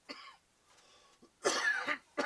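A person coughs close to the microphone in a quiet room: one short cough, a faint throat noise, then a harsh cluster of two or three rough coughs and a final burst.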